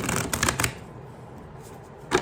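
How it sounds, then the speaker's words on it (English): A deck of tarot cards is shuffled in a quick rapid riffle up close, followed by a brief pause and one more short burst at the end. "Now, I'm going to shuffle"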